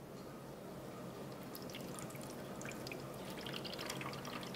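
Water is poured into the reservoir of a Yoocaa LED hydroponic indoor growing system, producing a soft, steady trickle with faint splashes, quiet and close, with no voices.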